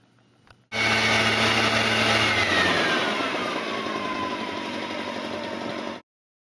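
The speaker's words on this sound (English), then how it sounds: "How about a backpack blower?" A backpack leaf blower starts abruptly and runs loud and steady at close range, with a roaring engine whine that eases off slightly before it cuts out suddenly.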